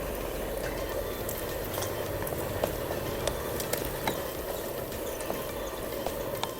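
Beef pieces frying in a pan for homemade beef achaar pickle, a steady dense sizzle and bubbling with faint clicks throughout, close and continuous, no talk.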